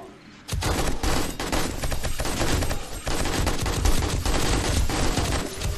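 Sustained automatic gunfire in 7 Days to Die during a day-56 horde night, starting abruptly after a brief quiet moment and continuing as dense, loud rapid shots for several seconds.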